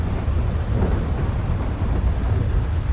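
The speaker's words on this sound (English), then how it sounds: "We gotta get out of the storm." A thunderstorm brings a steady, heavy roar of rain and low rumbling thunder that fills the whole stretch evenly, with no voices.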